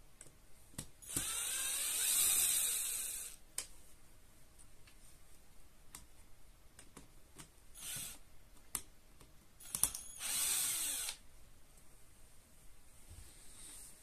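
An HP printer's fuser unit is taken apart with a powered screwdriver, several short whirring bursts loosening screws, with small clicks and taps between the runs.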